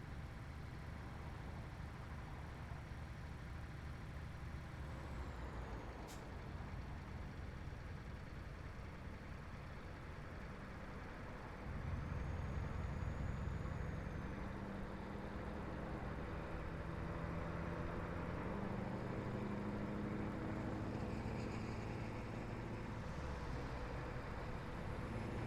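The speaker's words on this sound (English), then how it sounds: "Definitely sounds like a truck passing me." A truck passes in Euro Truck Simulator 2 on a South American map, a steady low engine drone and rumble that thickens partway through as the other vehicle draws alongside, with no talking.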